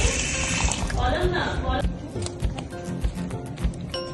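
Water running from a tap into a bucket for watering garden plants, a steady splashing stream that cuts off partway, then scattered drips and clatter, with a person talking throughout.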